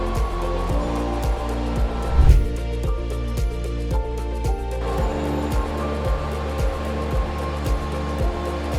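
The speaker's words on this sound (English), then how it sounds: "So here you see the gear hobbing operations done on this machine." A WIDMA machine tool cutting gears by hobbing, with a steady mechanical whir and hum, regular rhythmic ticks repeating about every half second, and a brief louder bump early on, continuous and close.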